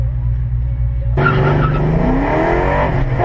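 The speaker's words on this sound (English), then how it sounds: "Takes me into a damn car race." Race car screeching with loud tire squeal over a roaring engine, a sustained skid sound effect that kicks in suddenly after a low rumbling idle and stays loud to the end.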